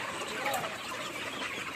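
Chickens being weighed for sale cluck and murmur together as a faint, continuous flock noise for a short moment.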